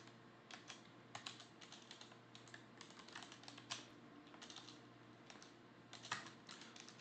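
Keys clatter on a computer keyboard while music code is entered, irregular bursts of close, quiet clicks and taps over a faint steady hum, with no talk.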